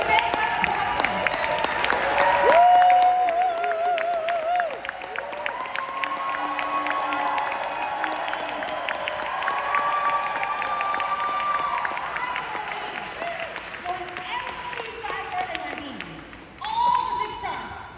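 Convention audience in Utah applauding and cheering, a broad steady wash of clapping and crowd noise that carries on throughout with brief shouts and voices over it.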